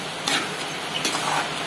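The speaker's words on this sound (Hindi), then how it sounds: "ये फ्राई हो रहा है दाल" Chana dal frying in a pan for dal puri gives a brief, steady sizzle with a couple of soft stirring scrapes, close and moderately quiet.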